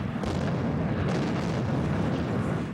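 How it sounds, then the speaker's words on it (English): Large explosion in the center of Baghdad during the American bombing campaign of the Iraq War, heard as a dense, sustained roar and rumble at steady loudness throughout, with no voices. "A large explosion tonight in the center of the city."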